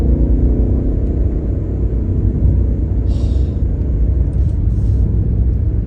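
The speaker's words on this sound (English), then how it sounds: "And the exhaust sounds great." Deep, steady exhaust rumble from a 2023 BMW M8 Competition, heard from inside the cabin as a continuous low drone with no clear revving, under light road noise.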